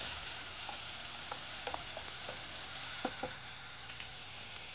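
Tomatoes and slit green chilies fry in a pan with a steady, low sizzle and a few faint ticks of stirring, quiet and continuous, with no voice over it.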